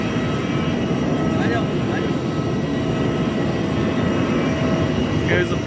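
Airplane at Jolly Grant Airport just after landing, heard from the cabin as a loud, steady engine roar that continues without a break, no voices.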